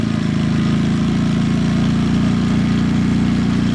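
Atima AY2000i Yamaha-powered RV generator running steadily, a loud, even mid-pitched engine drone held close throughout with no talk.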